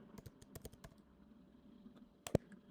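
Soft keystrokes tap on a computer keyboard in a quiet room, a quick irregular patter that pauses, then ends with one sharper, louder click.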